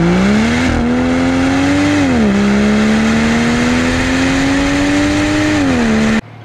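A 2016 Volvo V60 T6 Polestar wagon's 345-horsepower straight-six revs loud and close, climbing through steady acceleration pulls with brief dips at gear changes, then cutting off abruptly near the end.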